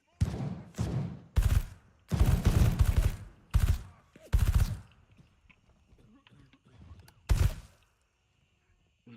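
Bursts of gunfire in the video game Gray Zone Warfare, loud close volleys of rapid shots in irregular clusters over the first seconds, then one more burst after a short pause before quiet.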